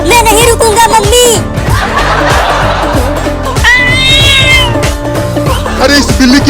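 A cartoon cat meows repeatedly in high, wavering cries, loud and near, over busy background music and voices throughout.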